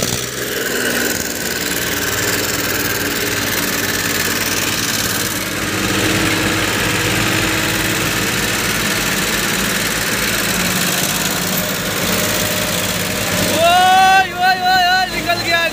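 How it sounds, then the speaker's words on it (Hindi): Several tractors strain to pull a stuck tractor free after a roadside accident, their diesel engines droning loud and steady throughout, with a sharp rising whine near the end and voices talking over the rumble. "अभी जो है चार को ट्रैक्टर लगा है एक ट्रैक्टर के निकालने में."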